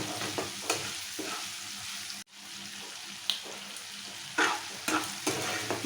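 Onions and salt sizzling in a pan on high flame while a spatula stirs them, scraping strokes breaking through a continuous fry, with a brief quiet gap midway.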